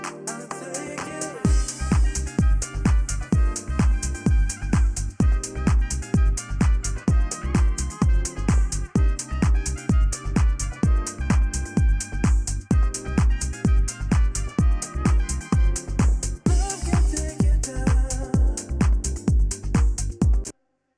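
A full music mix plays back after mix bus processing, with a steady punchy beat of regular kick hits and dense layered instruments, moderately loud with no talking.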